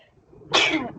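A single sudden burst, loud and broad like a sneeze, erupts midway after a faint, quiet stretch of room sound and then trails off.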